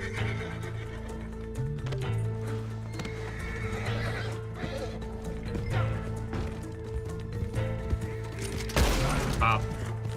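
Horse whinnying and hooves clip-clopping in a video game, set against game music and ambience, with a sharp crash near the end and a voice talking over it.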